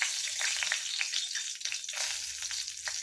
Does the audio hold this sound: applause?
no